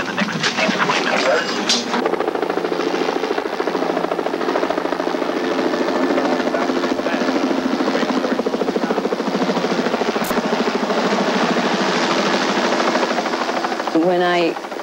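A helicopter landing at a trauma center heliport, its steady rotor drone and engine whine continuous and fairly loud throughout, with faint voices underneath.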